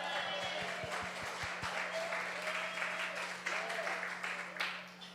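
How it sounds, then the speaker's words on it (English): Congregation applauding and clapping at a Sunday spiritual service, a broad wash of hands with a few sharp individual claps near the start, faint voices and cheers mixed in, over a steady low hum. "Let's clap some more."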